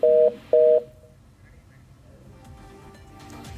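Two loud steady telephone beeps sound after a call drops, followed by quiet line hiss and faint distant noise.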